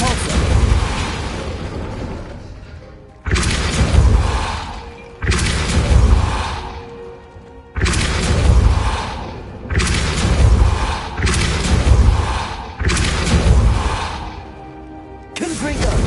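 Fiery spell blasts from Confringo and Incendio cast in Hogwarts Legacy, a run of loud booming bursts, each with a rushing crackle that fades, firing about every two seconds with brief gaps between.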